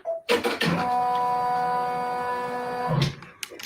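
A multi-needle embroidery machine stitches down a Happy Easter mug rug, spinning up into a steady, close mechanical whir with a tonal hum for a few seconds before stopping.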